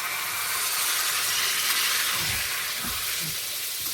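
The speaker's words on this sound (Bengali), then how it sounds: "এবার একটু সামান্য জল দিয়ে দেব, অল্প করে জল দেবো, একটু মাখা মাখা হবে।" Spiced vegetables hiss and sizzle loudly in a pan as a little water is added, a steady broad steam hiss throughout with a few soft low bubbling bursts near the end, no voices.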